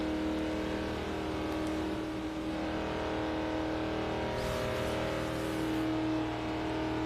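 A Ford F-150 pickup truck engine in the racing game Forza Horizon 2 drones steadily and loudly throughout with a sustained, even revving tone, no voices over it.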